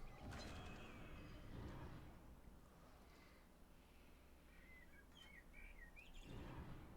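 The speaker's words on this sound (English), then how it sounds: "Can you hear those birds tweeting outside my window?" Birds chirp faintly outside a window in short, high tweets over a steady background hiss, with louder indoor rustling near the start and end.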